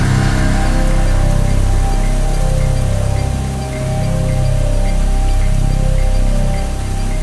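Heavy rain pours down at night in a forest near a graveyard. It makes a loud, dense, steady hiss with a low rumbling undertone, briefly easing and then resuming. No voices are heard.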